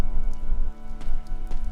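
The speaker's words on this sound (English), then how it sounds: "This rain threatens a coming storm." Rain falls steadily in a video game scene, a dense patter of drops striking a surface, with a few brighter splashes standing out now and then.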